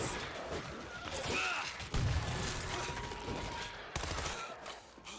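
Rapid gunfire bursts in the zombie shooter World War Z, rattling on fairly loud with a heavy thump near the two-second mark, set against dense game noise and a speaking voice.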